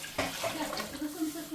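Running water pours steadily into a cooking pot close by, a splashing gurgle that shifts slightly in pitch as it fills.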